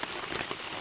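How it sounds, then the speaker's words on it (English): Rain falling steadily on a woodland camp where people are dug in, an even close patter of drops on surfaces with no talking. "we're dug in, and the rain hasn't held off."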